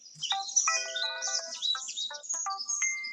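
A mobile phone alarm going off to mark the time: a bright electronic melody of short chirping tones and held beeps, close and clear, lasting about three seconds with no talk.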